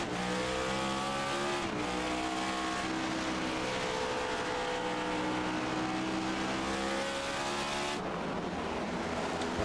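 Race cars accelerating back to green at Bristol in an FTF Cup Series race, a loud, dense roar of engines with rising and shifting revs that sweeps past and fills the whole stretch.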